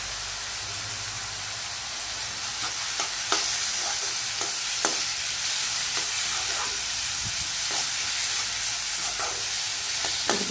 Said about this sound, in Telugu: కొంచెం హై ఫ్లేమ్లో పెట్టుకొని వేగనివ్వండి.